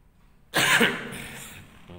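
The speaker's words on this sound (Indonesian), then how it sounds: "Batuknya nggak mau kompromi nih ya" A single sharp cough during a math lesson, sudden and close, followed by a brief fading throat rasp in a quiet room.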